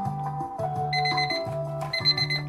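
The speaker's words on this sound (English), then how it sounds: "listen to the fanfare." A short electronic prize-win fanfare plays from a Safeway promotion: a bright, beeping synthesized melody of stepped tones that rises and repeats over a couple of seconds, clear and alone.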